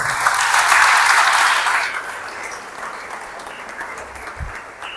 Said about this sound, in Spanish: Un aplauso para Virgen